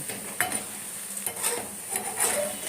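Bread balls fry in white oil in a wok for bread rasmalai. A steady, close sizzle runs throughout, broken by light clinks and scrapes of a utensil. No one speaks.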